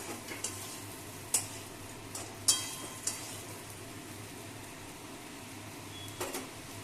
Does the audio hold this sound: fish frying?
yes